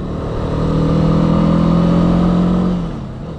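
A 2019 Honda CB300R motorcycle engine revs loudly and steadily at high pitch, roughly halfway up its rev range, holding a sustained whine before easing off at the end.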